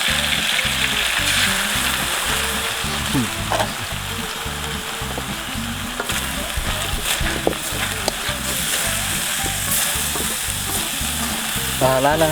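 Fish fries in a hot pan at a made-to-order food stall, giving a close, constant crackling sizzle with rhythmic stirring scrapes throughout and occasional splatter.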